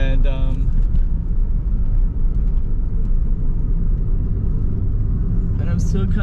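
A car drives along a road through Kamala, Phuket, Thailand, its engine and tyre rumble loud and steady throughout, with a brief higher noise near the end.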